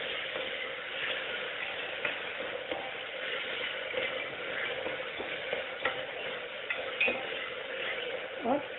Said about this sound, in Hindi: अब इसमें ये टमाटर ऐड कर देंगे। टमाटर के साथ साथ ये नमक भी ऐड कर देंगे।